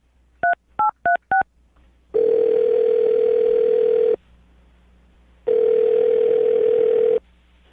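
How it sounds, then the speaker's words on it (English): A phone number is dialed on a telephone: four quick, evenly spaced keypad beeps, then two long, steady ringing tones separated by silence, clear and alone. "I'm going to dial the phone number right now"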